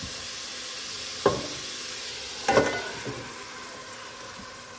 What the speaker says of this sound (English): Now we're gonna add our beans and the rice.